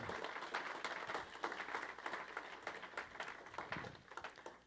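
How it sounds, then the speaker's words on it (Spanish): A church congregation applauds during a Spanish-language sermon, with dense, steady clapping that fills the whole stretch and fades slightly at the end. No one speaks over it. "Denle un aplauso al Señor."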